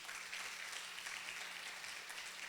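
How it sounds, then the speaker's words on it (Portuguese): A church congregation claps in praise during a Brazilian Portuguese sermon, a steady wash of many hands heard from a distance and fairly soft, with no pauses. "Dá uma salva de palmas a Jesus."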